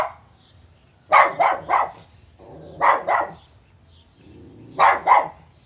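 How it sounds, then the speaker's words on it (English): Dog barking outdoors in three short bursts of two or three sharp barks each, separated by brief pauses, fairly close and clear over quiet background. "She wants to come outside and bark at them."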